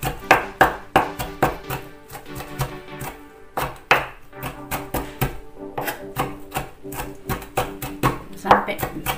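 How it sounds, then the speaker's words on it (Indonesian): A knife chopping snack ingredients into small pieces on a board, a quick, uneven run of sharp close-up chops with brief pauses, while a voice talks over parts of it. "Lalu potong lagi kecil-kecil,"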